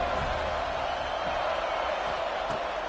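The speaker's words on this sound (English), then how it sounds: "This crowd ready to make its presence known." A stadium crowd roars in an NCAA 26 college football video game, a dense, steady wash of noise that holds without pause across the clip.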